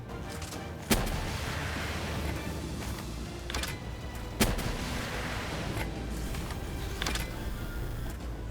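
Gunfire in the video game Palworld, a few sharp loud shots standing out over a continuous rumbling battle din, with sparse bursts spaced a few seconds apart.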